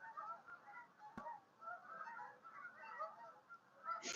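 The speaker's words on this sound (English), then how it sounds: "We got some more of these geese in like a pattern again." A flock of geese flying over a snowy golf course honks over and over in a loose, overlapping chorus, distant and fairly faint, with no talking.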